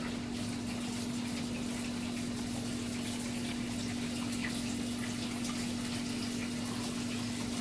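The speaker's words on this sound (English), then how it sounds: "think I'm gonna add some more water in this because I don't think all my noodles are done" Water pours steadily into a pot of noodles being cooked for a chicken casserole, a continuous broadband gushing rush with a constant low hum underneath, close and unbroken throughout.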